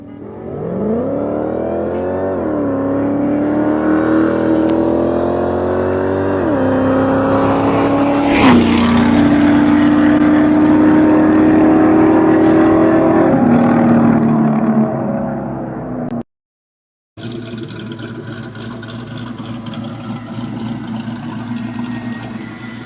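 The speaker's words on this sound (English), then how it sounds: "Listen to these cars scream." Race cars accelerate hard at a drag race, their engines screaming with a rising, sustained pitch loud and close. The noise cuts out briefly, then more engine roar follows.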